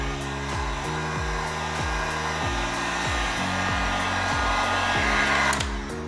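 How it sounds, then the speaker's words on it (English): Heat gun blowing hot air across a car emblem to soften its adhesive, a steady close whooshing roar with a rhythmic low whirring pulse throughout. "Never hold the heat gun in one spot. Keep passing it."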